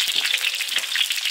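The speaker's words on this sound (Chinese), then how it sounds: "花椒炝锅，生姜大蒜炒香" Sichuan peppercorns, ginger and garlic sizzle steadily in a hot wok, a loud, bright crackling hiss with small pops throughout.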